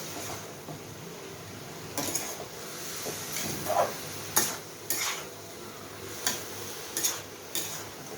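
Chopped onion going into a hot pan while frying radish, heard as a soft sizzle with intermittent scraping and stirring clicks from a utensil against the pan, moderately close and without speech.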